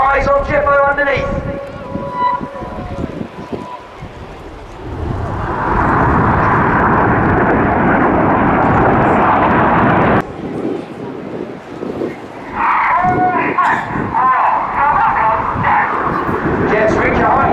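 Jet aircraft roar overhead during an aerobatic display at an air show, a loud, broad rushing engine noise that swells and fades in waves, with wind buffeting the microphone and voices talking throughout.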